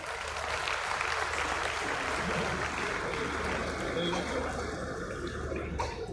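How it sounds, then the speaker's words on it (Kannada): An audience at a stage event claps in sustained, steady applause that fills the whole stretch, fairly loud with a busy, crowded texture. "ಅವರ ಪರಿಶ್ರಮಕ್ಕಾಗಿ ಆದರೂ ನಿಮ್ದೊಂದು ಚಪ್ಪಾಳೆ ಬರಲಿ ಅಲ್ವೇನ್ರಿ?"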